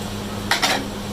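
A spoon clanks twice against a metal pot while mixing in browned onions and finely chopped fresh coriander, two quick close scrapes over a steady background hum.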